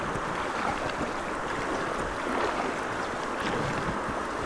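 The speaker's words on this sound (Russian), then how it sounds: "Нет, я в водовороте." River water churns steadily around a packraft caught in a whirlpool on the Kitoy River, a dense rushing wash with gusty wind buffeting close to the microphone throughout.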